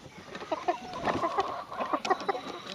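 A young rooster clucks in a run of short, close calls, loud and clear with no talk over it.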